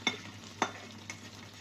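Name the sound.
beef added to pan and stir-fried with peas and mushrooms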